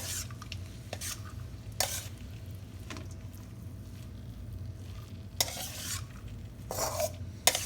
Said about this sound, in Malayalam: ഇനി നമുക്ക് നല്ലതായിട്ട് ഒന്ന് ഇളക്കി നമുക്ക് നല്ലതായിട്ടൊന്ന് മിക്സ് ചെയ്തെടുക്കാം